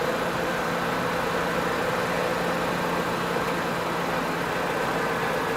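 Turbocharged 1991 BMW 325i convertible with a Garrett turbo and water-methanol injection, engine held at 3,500 rpm in third gear, a steady continuous drone with a constant tone and road noise, no talk.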